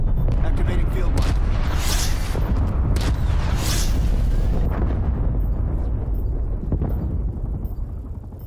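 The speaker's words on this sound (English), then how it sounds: "Incoming artillery." Incoming artillery strike in Call of Duty: Black Ops Cold War multiplayer, with heavy rumbling explosions and booms rolling continuously, loud and dense, under an in-game announcer voice.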